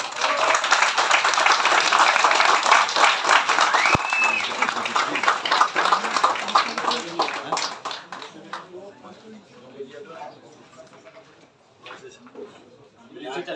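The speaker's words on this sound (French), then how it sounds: "l'équipe Blondel Valentin et Laure Corentin, on peut les applaudir." An audience applauds the winning team at a carp fishing enduro prize-giving, with strong, dense clapping that gradually thins into scattered claps, and a voice is heard over it.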